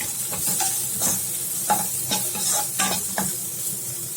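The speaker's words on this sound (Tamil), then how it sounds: "லைட்டாக வதக்கிக்கலாம்" Onion, chilli, carrot and sweet corn sautéing in a pan, a steady sizzle and hiss with repeated scraping stirs of a spatula at irregular intervals, close and fairly loud with no talking.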